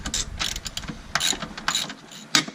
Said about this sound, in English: our next step is to take out the 4 bolts to the battery tray, 13mm